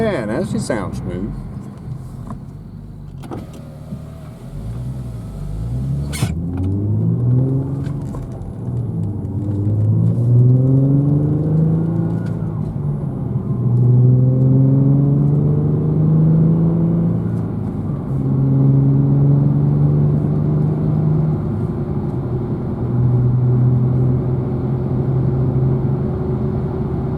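Infiniti G37 engine running smoothly on the road after a misfire fix with new plugs and a repaired torn intake boot, a steady cabin rumble rising and falling through gear changes, with someone talking early on.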